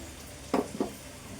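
Onions, tomato and mint sautéing in a pan for chicken biryani, with two short bursts of stirring and sizzling close by over a quiet background hiss.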